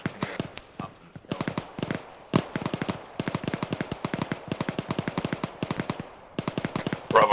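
Sustained bursts of rifle and machine-gun fire crack out during an infantry field training exercise, sharp repeated shots in rapid strings with short pauses, loud and close, a brief call heard near the start.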